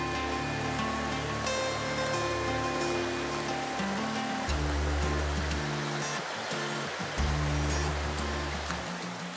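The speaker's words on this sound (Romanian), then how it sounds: "Am ajuns la confluența celor două pâraie, Comorâșnița și Cloța." Water rushes steadily over rocks in the Berzeasca mountain brook in Romania, a continuous close babbling flow with scattered splashes, heard alone without talk.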